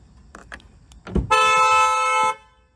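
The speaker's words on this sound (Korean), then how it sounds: "이렇게 빵빵 거리면서 문이 열릴 거예요" A car horn sounds in one long, loud steady blast lasting about a second, preceded by a few brief clicks and a thump as the door is unlocked with the key.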